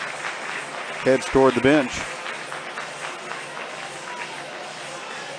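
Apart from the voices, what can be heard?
crowd applauding a basketball player heading to the bench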